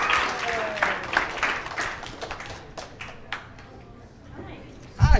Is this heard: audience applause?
yes